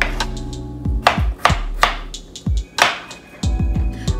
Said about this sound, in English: So I cut my potato in half first.